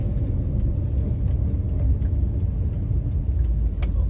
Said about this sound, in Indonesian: Laju mobil dilambatkan dulu.